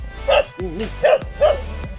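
Dog barking outdoors near Palakpakin Lake in San Pablo City, Laguna: three sharp, loud barks spaced about half a second apart, with a whiny yelp between the first two.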